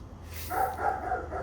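A dog barks a few times in quick succession at moderate distance, with a steady low hum underneath and no talking.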